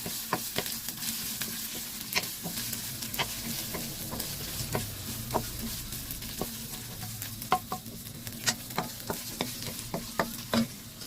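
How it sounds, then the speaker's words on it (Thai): Chili stir-fried in a pan, with a steady sizzle and intermittent sharp scrapes and clicks of stirring that grow busier toward the end, heard up close with no talking. "เอาพริกลงไปผัดก่อนนะคะ จะได้หอมๆนะคะ"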